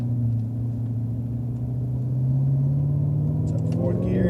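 A Cadillac CTS-V's supercharged V8 drones steadily as the car is driven on a race track, a loud low cabin rumble with the pitch climbing gradually, and a voice speaking over it.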